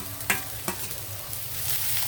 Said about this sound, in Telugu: ఇది ఆనియన్ ఈ విధంగా వేగితే సరిపోతుంది.